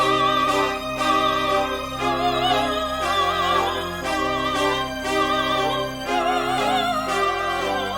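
Orchestral trap sample, with layered strings and an opera vocalist's sustained singing over a steady low bass, loud and continuous, with no talking.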